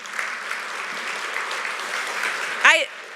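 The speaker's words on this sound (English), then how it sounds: "So gotta do a little clapping." Crowd applause at the Discover Oshkosh brand launch event, steady clapping from an indoor audience that runs throughout, with a short, louder whoop or cheer near the end.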